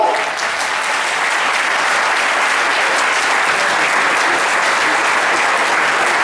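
Sustained audience applause fills a closing-evening gathering, a dense, even wash of clapping that holds steady and loud throughout.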